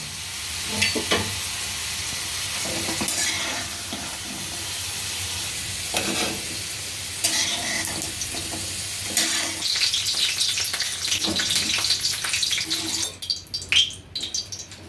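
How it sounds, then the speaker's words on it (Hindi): Raw potato pieces frying crisp in hot oil for a vegetable dish, a steady close sizzle and bubbling hiss throughout with occasional stirring scrapes, growing busier near the end. "देखिए इस तरीके से आलू को कुरकुरी फ्राई कर लीजिए"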